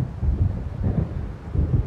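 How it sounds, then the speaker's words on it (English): Deep thunder rumbles and rolls in short low swells from an approaching storm in the video game Alan Wake, moderately loud with no voices. "It seems there's a storm coming."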